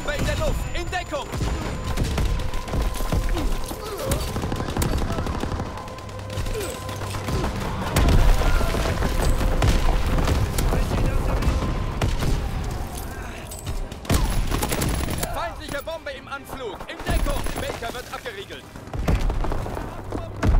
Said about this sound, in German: Bombe in der Luft! In Deckung!